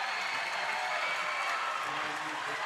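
A crowd at a school board meeting applauding, a dense, steady wash of clapping that holds at an even level throughout, with no clear talk over it.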